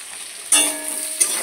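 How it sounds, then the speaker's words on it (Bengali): Potatoes and onions seasoned with salt and turmeric fry in a home kitchen pan, a soft sizzle that jumps louder partway through with a brief stirring scrape near the end. "আলু পেঁয়াজটা একটু ভাজা ভাজা করে নেব"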